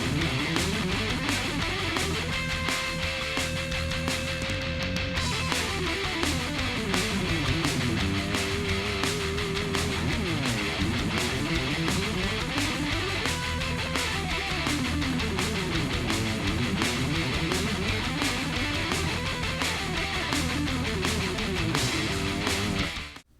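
Dense, continuous guitar music fills the whole stretch, with steady rhythmic pulses and a melodic line running up and down through scale pattern 1, no talking.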